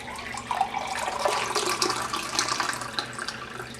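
Tap water runs into a measuring cup in a kitchen, a steady close splashing stream with brief louder gushes and no voices.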